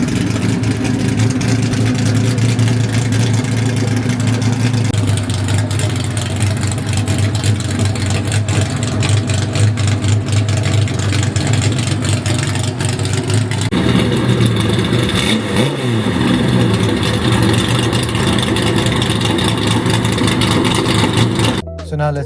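A Liberty Walk kitted Mercedes G-Wagon sits idling with a loud, deep, steady engine drone that runs the whole time, its tone shifting slightly midway, and is heard close up beside people talking.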